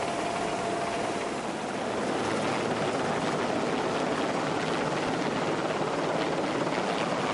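Helicopter hovering during an offshore evacuation lift, a steady loud rotor and engine roar with broad rushing noise, constant and unbroken throughout.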